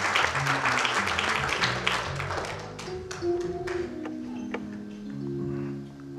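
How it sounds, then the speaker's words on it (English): A church congregation claps in praise, a loose burst of handclaps that thins into sparse, separate claps while sustained organ or keyboard tones sound beneath and continue as the clapping fades. "Give God a hand clap of praise."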